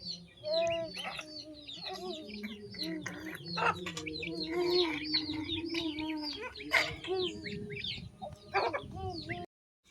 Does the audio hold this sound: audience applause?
no